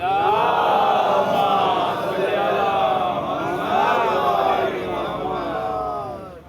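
A crowd at a Muharram majlis in Pune loudly chants salawat in unison, a dense, sustained wall of many voices rising and falling in waves for the whole stretch.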